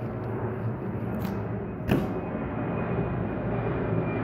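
Airplane passing low near the airport at Liberty Station, a loud, broad roaring rumble that holds steady, with a brief thump near the middle and no talk.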